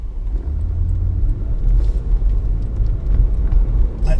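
A Lexus IS250 cruises along an empty back road, its low engine rumble and tire-on-road drone steady and close from inside the cabin, with faint bumps and rattles and no talk.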